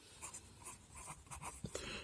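Chalk or marker scratching on a board during a Class 9 maths lesson on lines and angles, a series of short, quiet strokes and taps with no talk over them.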